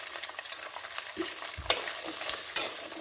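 Ginger, garlic and whole unpeeled shallots fry in oil in a pan, giving a steady close sizzle broken by scattered clicks and scrapes from stirring, with no voices.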